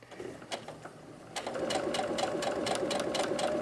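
Sewing machine stitching a zipper pouch, starting with a few separate needle taps, then settling into a steady, close, continuous run of rapid stitching with a whirring motor tone.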